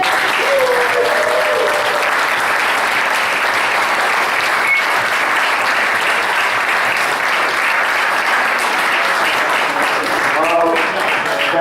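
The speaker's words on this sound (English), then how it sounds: "a big round of applause for Ron" A dinner audience at a Rotary potluck gathering applauds steadily and loudly throughout, a dense, sustained wash of clapping with a few voices faintly mixed in.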